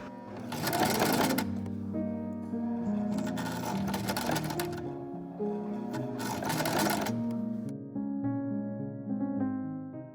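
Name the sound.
sewing machine stitching a folded fabric edge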